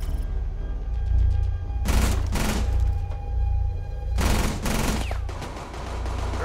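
Rapid Vector submachine-gun fire from long range in Rainbow Six Siege: two dense bursts of shots over a steady rumble of game ambience, loud and close, with no voices.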